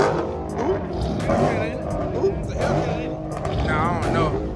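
Car engine revving loud at a nighttime car meet, rough repeated bursts of throttle with crowd chatter and people talking close by over the noise.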